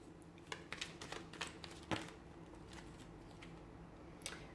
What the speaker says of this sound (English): give the cards a shuffle and see what they have in store for you